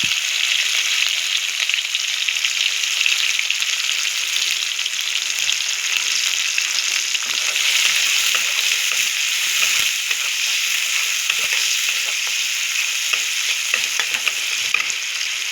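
Onions are frying in hot oil as the base for a chicken dish, with a dense, continuous crackling sizzle held at an even, fairly loud level and no talking.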